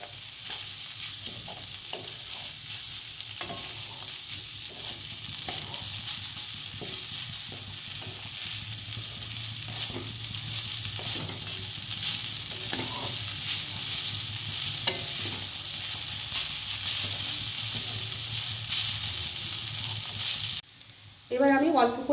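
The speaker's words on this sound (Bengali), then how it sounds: "এবার সেদ্ধ করা নুডলস দেবো। এবার ভালো করে মিশিয়ে দেবো।" Boiled vegetable noodles stirred and fried in a pan, a steady close sizzle with repeated scraping strokes of the stirring utensil throughout, no talking.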